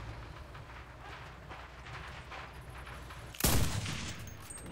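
Gunfire in the online shooter Cuisine Royale: a single sharp burst rings out near the end over a steady background hum of game ambience.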